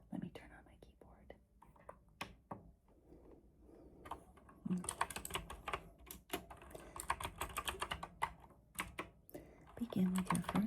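Typing on a mechanical RGB keyboard, close and crisp, starts as scattered key clicks and then becomes dense bursts of rapid tapping, with soft whispered talk in between.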